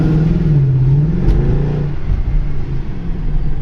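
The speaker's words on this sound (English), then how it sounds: "in comes the roar of that engine" A car engine roars loudly as it accelerates, pitch climbing then settling into a steady, throaty rumble, close by with no talk.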